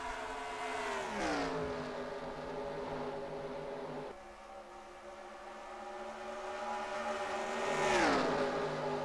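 Race car engines in the NASCAR Racing 2003 video game at Chicagoland drone loudly and steadily, with one car sweeping past early and another pitching down near the end.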